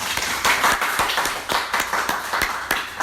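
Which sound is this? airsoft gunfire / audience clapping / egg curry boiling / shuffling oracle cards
audience clapping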